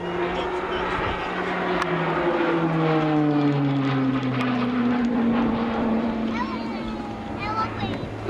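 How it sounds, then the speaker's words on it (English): An RAF Tucano turboprop trainer flies a display at Southport, including a hanging stall turn, its propeller drone shifting in pitch as it manoeuvres, loud and continuous under a commentator's voice. "Liam will now position to perform a favourite manoeuvre of Tucano display pilots, the hanging stall turn."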